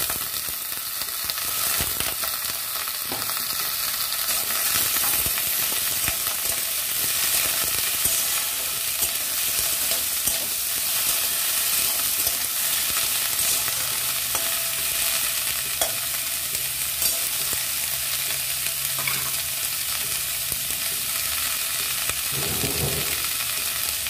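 Teasel gourd and potato pieces frying with onion in a pan, a steady loud sizzle with frequent stirring and scraping throughout, continuous with no talking.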